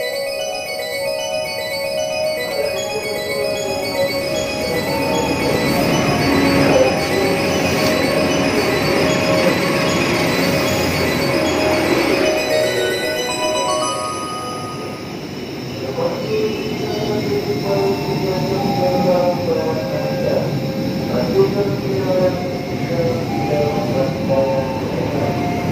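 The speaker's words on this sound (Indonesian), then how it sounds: "Kereta api Argo Muria nih." The Argo Muria passenger train, a short ten-car set, passes near Manggarai station in Jakarta beside a foundation construction site. Loud, close rumbling and squealing wheels carry on for about twenty-five seconds, with no talk over them.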